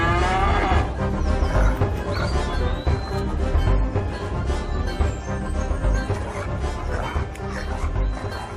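Cartoon cows moo loudly and repeatedly during a tiger attack, with dog-like whimpers and barks mixed into a dense, busy soundtrack filling the whole stretch.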